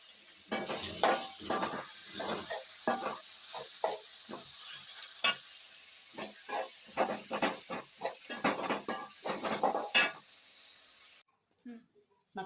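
Masala for a dried fish curry is sautéed in a pan, with a sizzle and repeated scraping stirs in an uneven rhythm under the crackle, close and fairly loud, then a sudden drop to near silence near the end.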